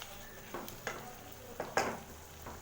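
Kadai paneer cooks on a medium flame, a faint low sizzle with a handful of soft spoon scrapes and light clinks against the pan as it is stirred, quiet and fairly sparse.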